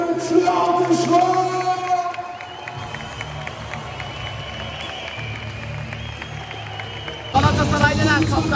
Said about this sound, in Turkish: Çok güçlü alkışlar